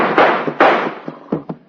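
Gunshots in an old Western radio drama, a rapid volley of about five sharp cracks fired close, with short decays and no talking.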